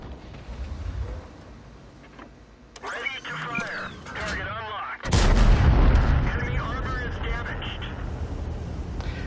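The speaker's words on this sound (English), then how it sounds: "It's going to take probably 3 shots to take care of this guy." Tank gun shots in the World of Tanks video game, a heavy booming blast cutting in mid-clip over rumbling engine and battle noise, with game voice chatter and effects around it.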